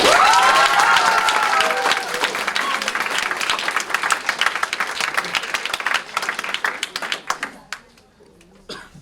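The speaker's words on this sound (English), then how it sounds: "let's give them a big Jerry Springer round of applause" Studio audience applause for a performing troupe, a loud burst of clapping with some cheering that thins and fades over several seconds, with a voice heard at the start.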